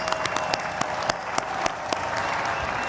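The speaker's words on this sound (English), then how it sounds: "Let's give another round of applause." An audience at a cultural festival dance performance breaks into sustained applause, dense clapping with a few sharp claps standing out, moderately loud.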